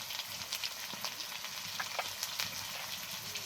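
Ginger-garlic paste and cumin-coriander powder frying in a pan for biryani masala, giving a steady close sizzle with scattered sharp crackles and pops throughout, no talking.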